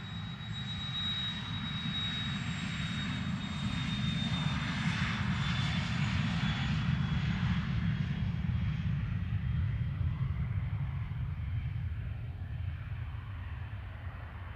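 A Citation business jet departs runway 25 at Luton Airport, a loud steady engine roar with a high turbine whine, building and slowly fading as it moves off, no talking.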